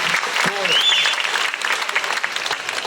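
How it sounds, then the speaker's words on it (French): Crowd at the Angers horse show applauding, dense continuous clapping throughout with a voice speaking over it and a short whistle rising above the noise. "Voilà, ça s'applaudit quand même."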